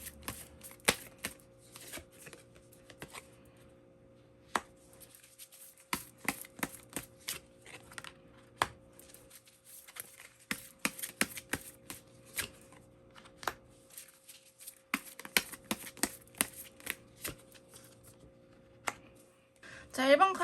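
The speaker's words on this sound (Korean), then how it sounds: "제가 이렇게 카드를 뽑아봤는데요" Tarot cards being shuffled and drawn on a table, a run of soft riffling flicks and taps in irregular bursts with short pauses, close and fairly quiet against a faint steady hum.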